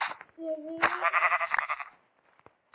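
Two short sheep bleats, close and clear, amid soft clicking and game-like background sounds.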